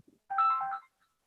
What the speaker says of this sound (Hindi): एक मिनट, फोन आ गया, इसको ये लेना जरूरी है।